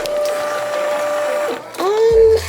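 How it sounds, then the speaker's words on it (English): A printer runs close by with a steady mechanical whir and hum, briefly dipping before a rising motor sweep and a louder buzzing pass as the page feeds. "it should be printing now"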